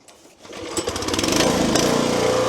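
A small petrol engine on a log splitter, convertible to vertical operation, is started: a brief pull, then the engine catches and rises to a loud, steady running rattle close by.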